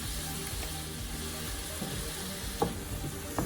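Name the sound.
onion and garlic sautéing in amaranth oil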